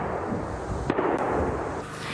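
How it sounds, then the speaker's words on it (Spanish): Artillery fire in the Donbass war zone, with a dull distant boom and a sharp report rising over a constant loud outdoor rumble. "Suenan disparos de artillería en esta parte del Donbass controlada por el ejército ucraniano."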